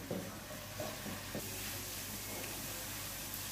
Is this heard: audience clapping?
no